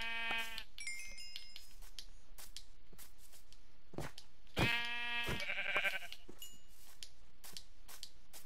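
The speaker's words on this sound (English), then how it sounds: "I'll kill these sheep just for food also." Sheep in a hardcore-mode video game bleat in short, wavering calls, with a few spaced bleats and a louder cluster midway, over faint clicking and shuffling game sounds.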